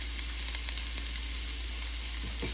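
Chopped onion added to hot oil for a Punjabi-style okra fry, giving a steady, even sizzle up close with no voices.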